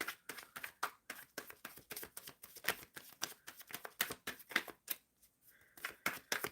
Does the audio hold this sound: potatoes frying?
no